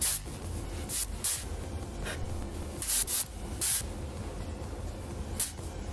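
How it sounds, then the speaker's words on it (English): Moroccanoil texture spray misted onto the ends of hair in short hissing bursts, about eight or nine quick sprays at close range against a quiet rustling background. "I use the Moroccan Oil Texture Spray. I just apply this to the ends of my hair"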